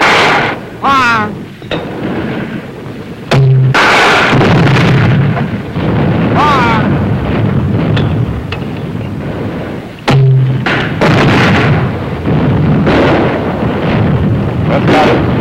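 Gunfire from a WWII rifle platoon's supporting weapons: loud heavy booming blasts with long rolling echoes, two big reports standing out among rumbling fire, with shouted commands in between.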